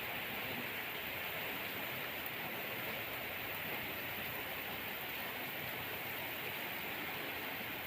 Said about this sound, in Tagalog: Medyo may hangin yung ulan guys.